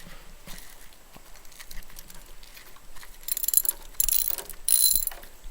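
A socket wrench unscrews a spark plug from a Husqvarna 46-inch riding mower, giving faint, irregular ratchet clicks that build into a few louder bursts of metallic clicking toward the end.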